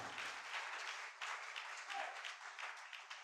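A church congregation applauds and cheers in a broad, steady wash of clapping that stays fairly faint and continuous, with a few voices mixed into the crowd noise.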